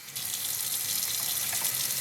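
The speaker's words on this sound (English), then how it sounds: "I'm going to rinse off the measuring spoon" A measuring spoon is rinsed under a running kitchen tap, giving a close, steady splashing stream of water that runs continuously for a couple of seconds.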